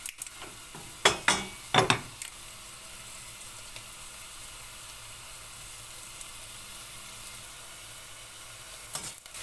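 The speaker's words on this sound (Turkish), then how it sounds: "Soğan kavruluyor. Soğanı iyice kızartacağım." Steady sizzle of onions frying in a pan, with a few louder clanks of stirring near the start, then an even hiss continuing alone.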